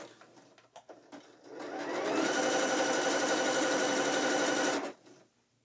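A sewing machine runs steadily for about three seconds, stitching along the edge of a net thong bikini, with brief handling clicks before and after the continuous motor whir.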